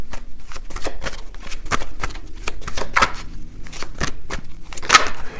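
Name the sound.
shuffling tarot cards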